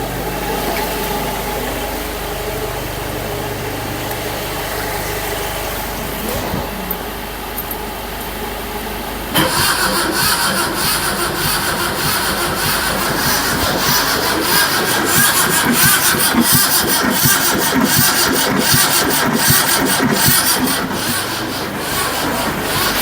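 A half-restored barn-find Zastava 850 with no ignition spark cranks on its starter motor without firing: a loud, rhythmic churning that kicks in about midway and grinds on steadily to the end, over faint garage background.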